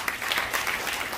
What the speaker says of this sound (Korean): 자, 우리 다시 한번 박수를 부탁합니다.